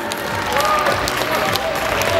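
Applause and scattered cheers from a ballroom dance competition crowd in Kiev, 2012, a continuous, moderately loud clapping texture with a voice talking over it.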